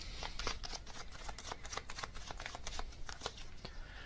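Tarot cards being shuffled by hand, a steady run of crisp riffling flutters and soft card slaps, close and fairly loud, with no talking.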